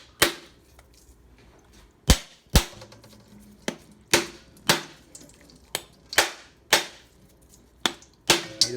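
The back of a knife strikes a whole natural coconut shell hard, again and again, while the nut is turned to crack it open. About a dozen sharp, hollow knocks come at an uneven pace, close and fairly loud, with no talk.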